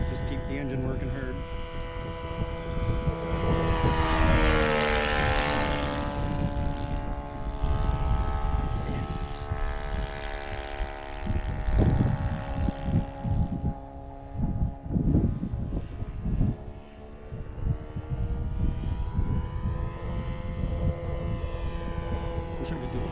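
A quarter-scale RC Piper Cub model plane with a Gemini 160 engine flies in strong wind, its engine giving a loud, steady buzzing drone that rises and falls in pitch as it passes. People talk over it.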